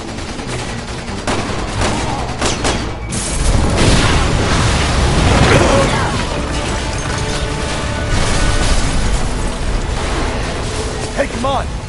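Gas blown up by gunfire in the video game Resident Evil 6 sets off a dense, loud stretch of blasts and rapid shots, with a rumbling swell partway through and voices mixed into the chaos.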